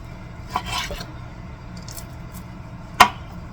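A knife cuts through cooked steak for pepper steak in a kitchen, with soft rubbing and scraping strokes followed by one sharp knock on the board near the end; nobody speaks.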